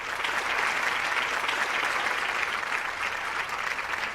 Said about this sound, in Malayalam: നിങ്ങൾ കൈയടിച്ച് പറയുക